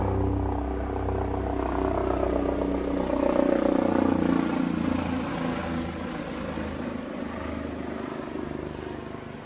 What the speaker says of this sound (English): Every now and then we have a helicopter coming over really low.